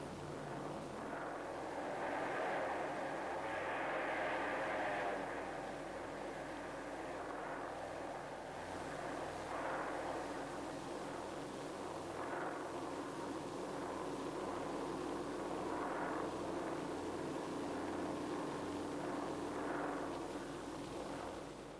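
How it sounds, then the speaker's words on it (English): Japanese warplanes flying in formation toward Oahu, heard as a continuous droning roar of piston aircraft engines that stays loud and steady throughout, with slight swells in the engine tone. "the leadership of Commander Mitsuo Fujita, the Japanese aircraft stream south toward Oahu"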